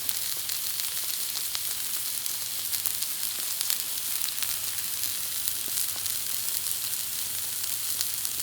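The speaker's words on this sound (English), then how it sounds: "I am going to go ahead and throw my pineapple slices on there." Pineapple slices sizzle on a flat-top Blackstone griddle, giving a constant, even crackling hiss with faint pops, close by and steady throughout.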